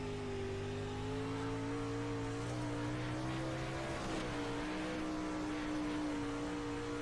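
Race car engine heard onboard during laps in a sim racing game, a steady droning tone that shifts pitch as the car accelerates and changes gear, loud and continuous with no talking.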